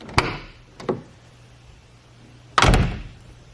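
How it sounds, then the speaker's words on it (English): A Subaru GC8 car door being opened and closed: two light clicks of the latch, then a louder solid thunk as the door shuts, close by against a faint steady hum. "So now when I open and close the door"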